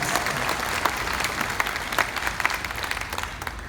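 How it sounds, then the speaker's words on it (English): Audience at a Dream Con fan convention interview applauding, a dense, steady patter of many hands with scattered sharper claps, fading slightly toward the end. "please, all applause, please."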